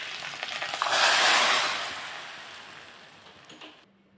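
Mustard seeds, asafoetida, dried chillies and curry leaves sizzling as a tempering in hot oil, a loud hissing crackle that swells early, then gradually fades before cutting off.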